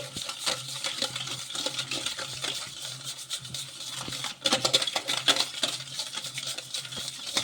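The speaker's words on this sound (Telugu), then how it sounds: "ఈ చక్కెర కరిగే వరకు ఇలా మొత్తం కూడా కలిపేసుకోవాలి" A spoon stirs sugar into milk in a pot until it dissolves, making a steady run of light metallic scrapes and clinks against the pot's side, close and fairly continuous throughout.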